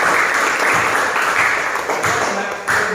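A classroom audience of high-school students claps together in a full, steady burst of applause that fills the moment from start to finish, with no voices above it.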